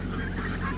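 Geese and ducks honk steadily at close range during backyard feeding, a short dense burst of overlapping calls.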